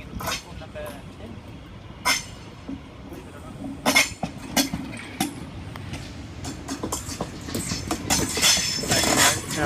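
A48 train pulling into platform 10 at Central station, with rumbling wheels, intermittent clanks and bursts of brake or air noise building toward the end, while people talk throughout.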